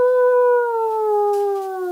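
A person imitates a wolf howl with their voice: one loud, sustained tone that slides slowly downward for about two seconds, heard alone.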